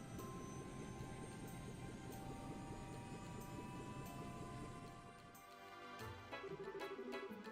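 Guardsmen warship airship in the Trails in the Sky video game powers up for takeoff with a steady droning engine hum and whine, shifting pitch and swelling near the end, with no talk over it.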